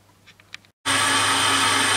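Grinding wheel powering up after a few faint clicks and a brief silence, then a loud, steady high-pitched whine that runs to the end.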